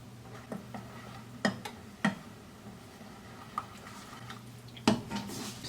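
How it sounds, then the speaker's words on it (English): A spoon stirs a thickening mixture in a pan: sparse, quiet taps and scrapes against the cookware, a few sharper clinks spaced irregularly over a low steady background hum. "And I'm just going to stir it in."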